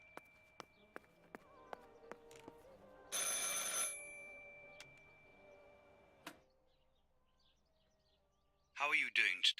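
In the Martha Is Dead video game, a telephone rings with a metallic, bell-like trill in a short burst near the end, after scattered ticks, a hiss and quiet room tone.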